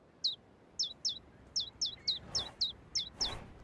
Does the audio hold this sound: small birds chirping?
yes